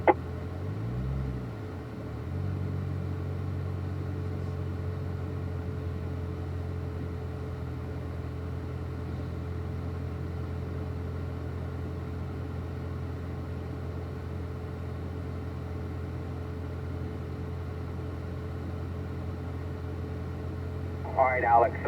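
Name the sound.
race car driving through corners on track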